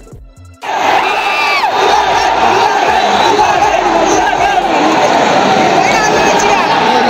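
A packed stadium crowd at a Pro Kabaddi match in Chennai roars and chants in support of player Sudhakar, a loud, continuous wall of cheering and shouting that swells up after a brief quiet start and holds steady throughout.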